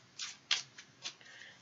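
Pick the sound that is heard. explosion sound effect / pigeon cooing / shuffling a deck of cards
shuffling a deck of cards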